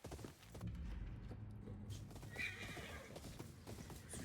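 A horse in the video game Ghost of Yotei neighs and whinnies, with clip-clopping hooves close by over a few seconds.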